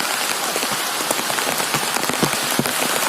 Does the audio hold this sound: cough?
no